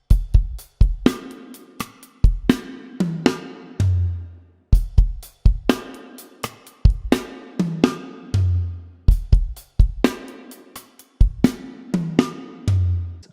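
A drum kit plays a bar from a song, a steady beat with punchy kicks, snare hits and ringing cymbals, repeating in a regular groove with no voices.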